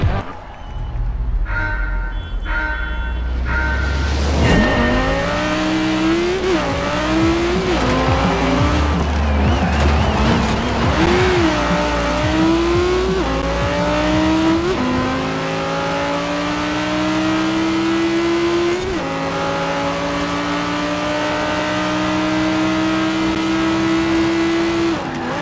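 Race car engines scream through a Forza Horizon 4 race at a Scottish Grand Prix, loud and continuous, with repeated rising revs through gear changes and occasional tire squeal.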